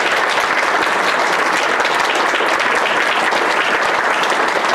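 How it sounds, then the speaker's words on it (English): A large audience at a conference panel session gives sustained, dense applause that stays loud and steady for the whole stretch, with no voices over it. "Big round of applause for all of them."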